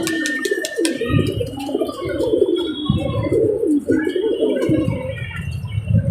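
Domestic pigeons coo in low, rolling repeated calls, kept for pigeon racing with numbered leg tags; the cooing is close and steady throughout, with a few faint chirps above it.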